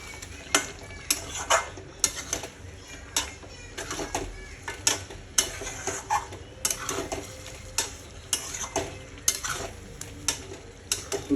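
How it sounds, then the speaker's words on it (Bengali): Chicken coated in mint paste fries in a pan for pudina chicken curry, a soft sizzle under repeated rhythmic scrapes and clicks of a spoon stirring against the pan. "তো এটাকে আমি ভালো মতো কষিয়ে নেব।"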